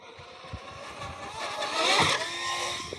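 A Traxxas RC truck rips around doing backflips, its electric motor whining in a broad, rising roar that swells to a peak near the middle and stays loud, with thumps of landings underneath.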